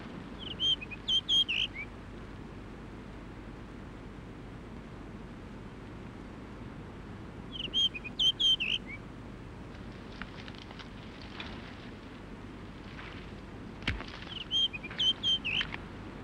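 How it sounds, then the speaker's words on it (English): A blue rock thrush sings from limestone hills in three short bursts of bright, fluty notes spaced several seconds apart. The bird sounds moderately distant over a quiet, steady outdoor hiss. "The song of the blue rock thrush, a bird typical of limestone hills."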